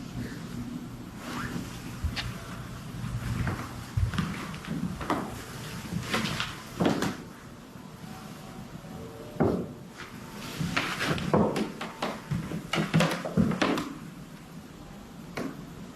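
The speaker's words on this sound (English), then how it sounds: "That's an old ass creaking house." An old house creaks and knocks: scattered wooden creaks, thumps and clacks like doors or drawers shifting, at irregular intervals over a quiet hum.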